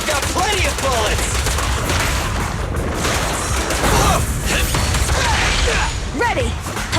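Dense gunfire in Zenless Zone Zero, a continuous loud rattle of shots mixed with game effects and clashing noise, with voices in the fray.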